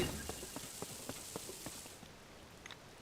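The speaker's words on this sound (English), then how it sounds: "I should wait for it to stop raining, though." Soft rainfall in Zelda: Tears of the Kingdom patters quietly, a faint steady wash broken by light regular ticks of drops, with no talking.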